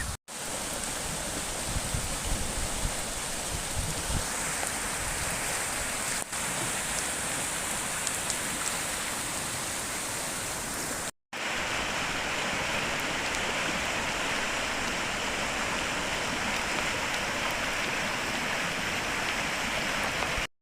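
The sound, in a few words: Porter Brook river in flood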